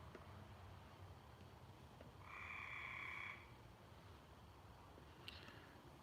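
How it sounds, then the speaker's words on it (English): A frog croaks by an outdoor swimming pool of still-cold water: one faint, buzzing croak lasting about a second, heard alone against quiet background hiss. "The frog's talking, Scott."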